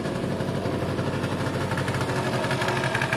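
Piaggio Vespa scooter engine idles steadily after sitting unused for an unknown time, a close, even, buzzy putter with a fast regular pulse and no talking over it.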